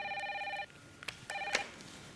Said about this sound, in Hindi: ये कोई फ़ोन आ रहा है क्लाइंट का